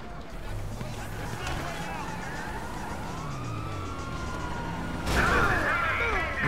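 A police siren wails steadily in GTA V, its sweeping tone rising and falling over continuous traffic noise, with a louder burst of sound near the end.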